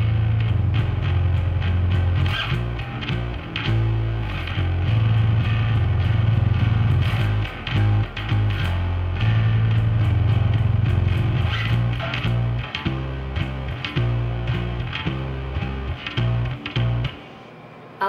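A bass guitar plays a chorus riff, with palm muting and notes on the fourth string, giving a loud, continuous run of low, rhythmic notes that stops near the end.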